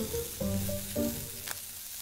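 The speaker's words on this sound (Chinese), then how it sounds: "腌好的鸡腿排皮朝下入锅，煎到两面金黄" Marinated chicken thighs fry skin-side down in a flat pan with a little oil, giving a steady close sizzle with a few brief clinks and a scrape from stirring.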